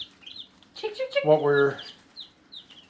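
Nearby chickens cluck and murmur softly, with one longer, louder burst of clucking in the middle and faint chirps around it.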